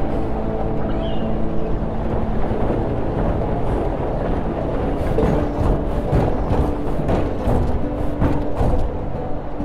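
In a video game, a watercraft's water jet gives a steady rushing, engine-like roar with wind-like hiss, loud and constant throughout.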